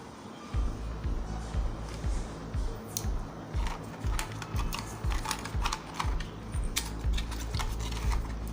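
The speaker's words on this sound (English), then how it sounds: "So this is how we are going to tape it." Tape is pulled and pressed firmly onto a satellite cable line in a series of quick, close crackles, clicks and taps with irregular rhythm, fairly quiet against a low rumbling background.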